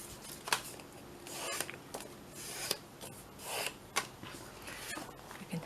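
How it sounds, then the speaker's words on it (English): Paper being folded in half for a handmade folio, with crisp rustles, rubs and creasing swipes at irregular intervals, close and fairly quiet, without talk. "So I'm going to just fold this in half"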